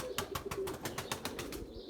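Pigeons fly high overhead while soft, repeated cooing calls pulse in a quick rhythm, fairly faint and distant with a light airy background.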